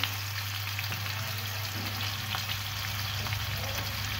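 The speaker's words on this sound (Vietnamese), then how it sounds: "Mình sẽ chiên sơ trước." Chicken pieces pre-frying in hot oil for a fish-sauce chicken dish, a steady dense sizzle and crackle with a low hum underneath and no voices.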